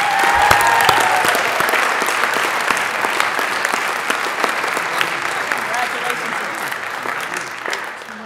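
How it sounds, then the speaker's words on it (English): Sustained applause from an audience at a school board meeting honoring top students, a dense steady wash of clapping that fades slightly toward the end. "Please join me as we applaud these students who are in the top of their field."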